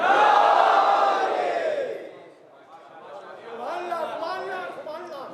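A large crowd at a Muharram majlis in a Mumbai mosque shouts the religious slogan Nara-e-Haidari together in a loud, sustained roar, followed by a quieter, rising collective chant of many voices.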